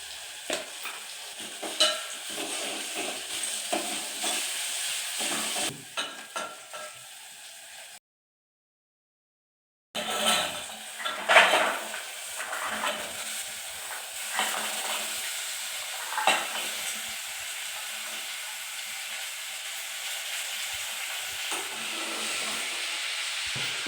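Ginger-garlic paste with onions, green chillies and turmeric frying in a pan for a broad bean curry: a steady, moderate sizzle with stirring scrapes, a brief silent gap partway through, then the hiss resumes.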